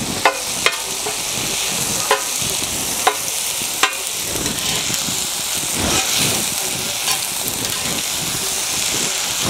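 Curry leaves hit a pan of softened tomato and onion for Chettinad chicken fry, giving a steady, loud, rain-like sizzle with a few sharp clicks of a utensil early on.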